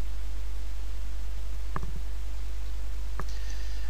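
Two sharp computer mouse clicks, a second or so apart, sound crisply up close against a steady low electrical hum while CDBurnerXP software is being operated.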